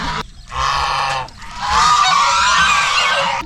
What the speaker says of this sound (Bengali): দেখলাম কতগুলো রাজহাঁস ঘুরে বেড়াচ্ছে